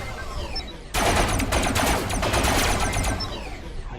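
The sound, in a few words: turrets firing shots in the video game Robocraft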